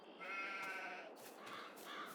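Sheep bleat in the Farming Simulator 22 video game, several overlapping game-animal calls in quick succession, clear and fairly close with no talking.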